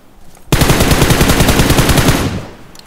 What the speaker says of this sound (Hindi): नाइस स्प्रे, तेरे पास क्या एमो नहीं है क्या बट्टू?